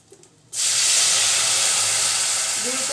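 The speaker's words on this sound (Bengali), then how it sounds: "এবার দিয়ে দিচ্ছি দুধ" Milk hits a hot pan while chutki pitha is being cooked, bursting into a loud, steady hiss and sizzle that starts abruptly after a quiet moment and stays sustained to the end.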